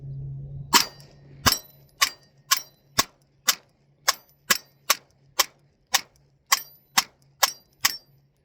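A Glock 48 pistol firing fifteen 9mm rounds from a Dagger micro magazine, sharp loud shots in a steady string about two per second, each with a brief decay.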